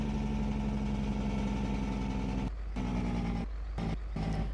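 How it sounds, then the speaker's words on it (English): A truck engine idles steadily in the Farming Simulator 19 video game, a loud, continuous low rumble with brief dips where the sound cuts out, and no talking over it. "Truck's kind of loud."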